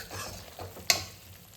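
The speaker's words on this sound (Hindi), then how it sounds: "फिर मसाले को भूनने तक चलाते रहना है" Masala roasts in oil with a soft, quiet sizzle and a few scraping stirs from a spoon, one sharp clink standing out in the middle.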